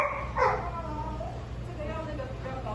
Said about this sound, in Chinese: 但是外面有狗在叫